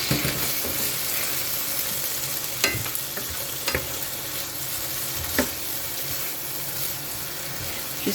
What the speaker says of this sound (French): Là, vous pouvez mélanger pendant un petit moment.